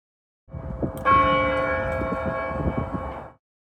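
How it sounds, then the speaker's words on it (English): A county courthouse clock bell strikes once, a loud ringing tone that holds and slowly decays, with a faint earlier tap and low background rumble around it. "We missed the first bell, so it is now 3 o'clock."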